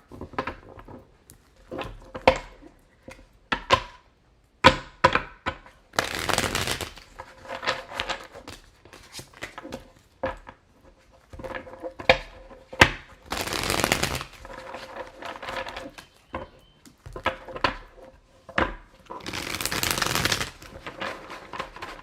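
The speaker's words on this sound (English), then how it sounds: "Last shuffle." Tarot cards being shuffled by hand, repeated crisp riffling bursts and soft taps of the deck, close and fairly quiet, with a few longer fluttering riffles spaced across the stretch.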